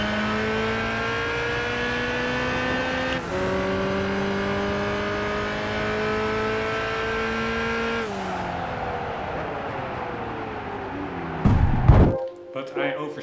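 Race car engine in Gran Turismo 5 holding a loud, steady high drone with two sharp pitch drops at gear shifts, then a deeper rumble and a brief burst of tyre noise near the end, with no talk.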